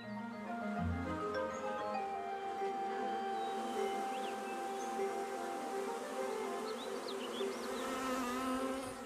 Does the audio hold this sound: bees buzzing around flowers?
yes